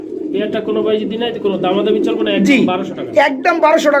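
Pigeons coo steadily and continuously at a pigeon market, with people talking over the birds throughout.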